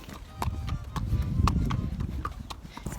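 Hooves clip-clop at a walk on firm ground, a close, steady rhythm of sharp knocks with faint background noise and no talk.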